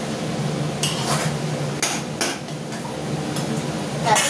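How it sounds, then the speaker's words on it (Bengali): Meat frying in spices in a pot is stirred hard with a metal spoon, bringing repeated clanks and scrapes against the pot over a soft, steady sizzle, with no talking. "এবার মাংসটা আমি খুব ভালো করে কষাবো"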